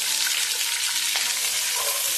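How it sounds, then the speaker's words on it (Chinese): Green beans stir-fry in oil in a wok over high heat, giving a loud unbroken hiss of sizzling close up, with faint scraping from the constant stirring. "给它开大火，不停的煸炒，把里面的水分给它炒干"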